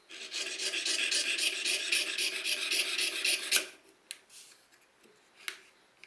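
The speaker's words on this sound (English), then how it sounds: "started to cut out the mother of pearl inlay" Mother of pearl inlay is cut by hand with a fine saw, a fast rhythmic rasping that runs steadily for about three and a half seconds and then stops, followed by a few faint clicks and taps, close by with no talk.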